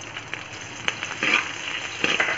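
Cumin seeds, fennel and green chili sizzle in hot ghee, a bright steady fry with crackles and a few sharper pops scattered through it, close up and with no talking over it.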